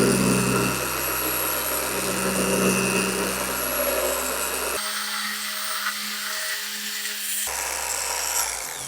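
Dual action machine polisher working over car paint, a steady loud electric whine and hum that runs throughout, briefly changing pitch as the pad shifts before settling again, with no talk.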